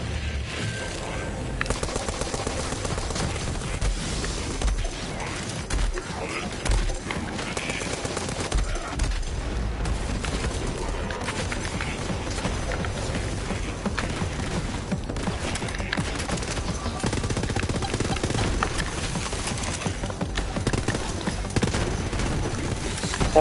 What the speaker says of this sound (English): That explosion is fucking amazing.